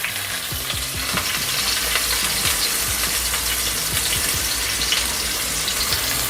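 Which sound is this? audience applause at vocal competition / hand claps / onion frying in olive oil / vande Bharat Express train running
onion frying in olive oil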